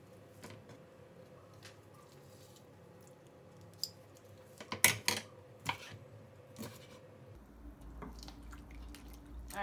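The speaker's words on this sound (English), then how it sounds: "I'm going to go ahead and add a little bit of more lemon juice in here" Lemon juice drips and splashes into a bowl of shrimp ceviche, a few scattered wet drops and small clicks close by, with a brief cluster of louder squelchy drips in the middle against quiet background.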